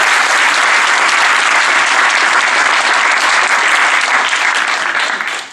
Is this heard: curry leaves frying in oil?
no